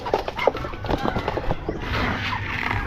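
Farm ducks give short, close calls and clucking bursts in the first half, then a rough, steady background noise takes over.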